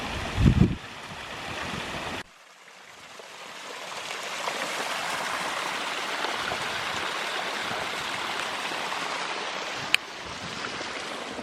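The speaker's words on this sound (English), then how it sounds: "We've been walking by the side of that waterfall on our left." Rushing water from a Lake District waterfall and stream makes a steady broadband hiss, fairly constant after a brief knock and a jump in level near the start, with a sharp click late on.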